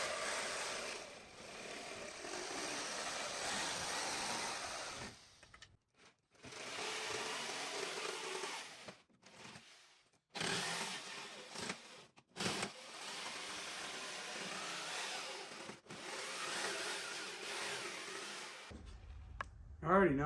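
A power saw cuts a bow shape out of a scrap piece of plywood, with loud rasping bursts of cutting broken by several short pauses and restarts.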